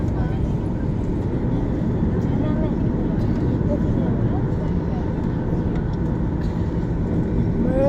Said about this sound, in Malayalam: ടേക്ക് ഓഫ് എന്ന് അറിയത്തില്ല, എടുക്കാൻ തുടങ്ങിയിട്ടുണ്ട്.